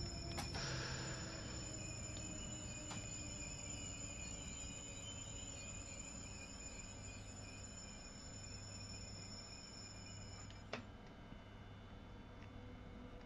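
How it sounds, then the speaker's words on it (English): A train in Train Sim World 4 passes by on the Antelope Valley or Vorarlberg line, a steady rumbling roll with a high whining, shimmering tone over it, fading out near the end with a brief clank. "When that train went past, it sounded like somebody was beaming out."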